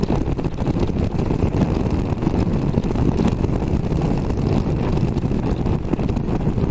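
Triumph Tiger Sport 660 motorcycle cruising in sixth gear, heard as a constant low engine drone buried under heavy wind roar on the microphone, loud and unbroken throughout.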